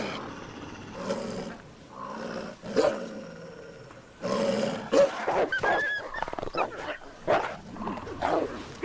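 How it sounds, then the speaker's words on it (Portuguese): A wolf pack feeding in the Alps, snarling and growling over a kill: rough, overlapping growls and snarls rise and fall, getting busier and louder toward the end, with sharp snaps between them. "Os rosnados e dentes à mostra reforçam as posições na matilha."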